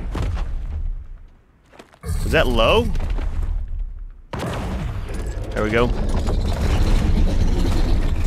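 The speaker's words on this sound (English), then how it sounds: "All right, buddy, get a cannon shot on you." Cannon fire in ARK: Survival Evolved, Extinction map, aimed at the Forest Titan: heavy booming blasts, two main impacts separated by a lull, with someone talking over the game sounds.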